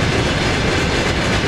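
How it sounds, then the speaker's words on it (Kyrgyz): Freight train wagons roll through a rail junction, a steady, dense rumble of wheels on track with faint clacking, close and continuous without any voices. "жүк салынган вагондор сорттолуп кайра жолго салынат"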